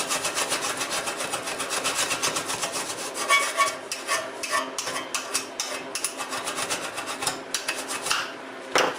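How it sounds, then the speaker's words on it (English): A metal file rasps across the faces of an old bandsaw blade being shaped into a scraper, with steady, close strokes that turn into distinct separate rasps toward the end, heard alone. "just file the faces nice and smooth, and turn an edge on it with the shank of a screwdriver"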